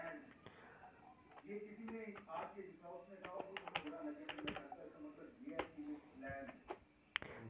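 Keys clack on a computer keyboard as shell script code is typed, irregular quick taps in short bursts, close and fairly quiet, mixed with someone talking.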